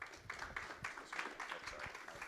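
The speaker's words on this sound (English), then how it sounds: "Let's give him a round of applause." A conference audience applauds as a speaker is welcomed to the stage, moderate clapping that comes in uneven rhythmic swells heard from a short distance.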